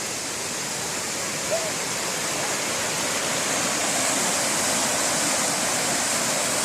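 Steady broadband rush of a small waterfall near Volcán, Panama, constant and fairly close, with no voices, a continuous watery hiss filling the whole stretch.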